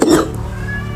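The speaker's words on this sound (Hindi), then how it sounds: "और हम जैसे खांसेंगे" A single short, harsh cough bursts out loud and close, then fades into a low room hum.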